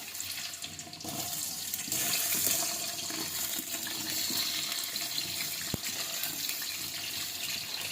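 Sliced onions sizzle in hot oil in a pan while cooking biryani, a close, steady broadband hiss that swells slightly after the first second and continues without talk.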